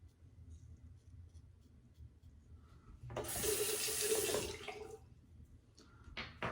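A bathroom tap runs for a quick rinse after a razor shave, a soft bursting stream of water lasting about two seconds amid quiet handling noises.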